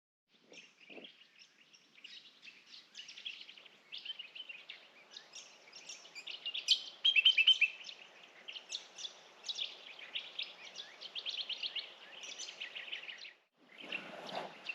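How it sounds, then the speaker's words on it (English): Several birds chirp and twitter close by in the morning on the Larapinta Trail in outback Australia, with overlapping high calls that sound almost nonstop over quiet surroundings. "Morning, birds."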